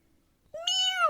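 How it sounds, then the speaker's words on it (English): After a short silence, a single close, clear cat meow rises and holds, loud against an otherwise quiet background. ""Mew!" again said the cat, but again the prince did not heed him."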